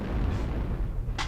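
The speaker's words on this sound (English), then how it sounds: "Airstrike online." An airstrike in MechWarrior Online: a deep, sustained rumble of explosions fills the short stretch, with a sharper burst near the end and no talk.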